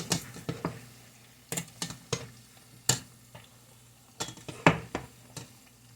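Homemade french fries are stirred around in hot frying grease, giving irregular scraping clicks and clinks of a utensil against the pot over a soft continuous sizzle.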